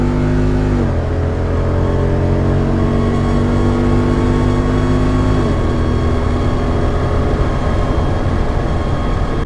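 A Jeep Wrangler 392 V8 revs hard toward red line, then shifts with a quick drop in pitch before climbing again, the loud engine note filling the cabin with no voices.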